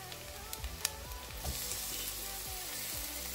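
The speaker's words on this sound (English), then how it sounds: "I'm going to fry all the onions." Onions frying in a pan with several tablespoons of oil for a pilau, giving a steady close sizzle with a few sharp pops and stirring scrapes near the start, no talking.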